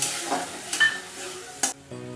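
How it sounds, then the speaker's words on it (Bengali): Spice paste of cumin, chili, turmeric and salt hits hot oil and is stirred, giving a soft sizzle broken by a few scraping stirs and a sharp spatter, then a low hum at the end. "পেস্টটা একটু তেলের মধ্যে নেড়ে নিচ্ছি"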